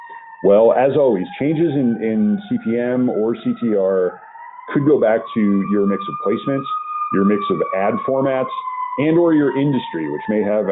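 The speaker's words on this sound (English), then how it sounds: "I apologize for the sirens in the background" A wailing emergency siren rises and holds in the distance in a downtown city, running steadily beneath a person talking close by.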